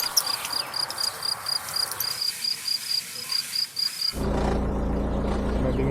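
Crickets chirp steadily at 9 in the morning beside a van on the Someșul Rece gorge in the Apuseni mountains, a continuous pulsing chorus that is suddenly masked by a loud rushing sound near the end.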